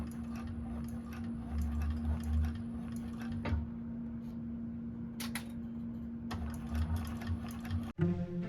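A 1341 cylinder-arm sewing machine stitches a seam allowance with a back stitch, running in close, steady bursts of rapid ticking hum that stop and restart, ending with a sharp click.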